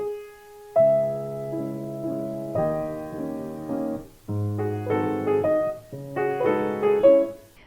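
Upright piano playing a romantic-style passage with the sustain (damper) pedal down, chords blurring and ringing into one another in a continuous, resonant wash; close and unaccompanied.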